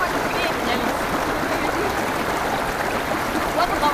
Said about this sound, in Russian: А вот он какой. Водопадец.